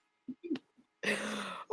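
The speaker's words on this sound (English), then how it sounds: "I want my sister coughing on camera" A person coughs: a few short throaty bursts near the start, then one longer harsh cough, close and distinct.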